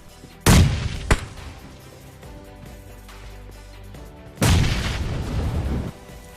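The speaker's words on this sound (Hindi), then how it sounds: "और यहाँ अचानक से बम बूरा होने लगते हैं" Bombs explode in the PUBG Mobile battle game: two loud, close blasts, each with a long rumbling decay, separated by a sharp single report and a quieter stretch of low background rumble.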